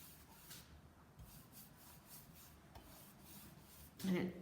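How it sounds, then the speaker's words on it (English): A cloth or brush rubs a thin, even coat of Autentico wax onto a surface with quiet, repeated back-and-forth strokes, close by, plus a brief louder scrape near the end. "And I'm putting on a thin, even coat of the Autentico wax."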